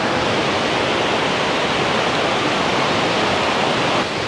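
A powerful waterfall in Bali roars close by, a loud, steady rushing wash of water that fills the sound without a break, with no voices.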